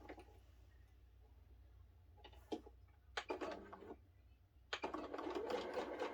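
A sewing machine stitches a quilt block in faint, short bursts of rapid mechanical chatter, the third burst longest, over a low steady hum.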